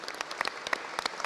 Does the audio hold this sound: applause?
yes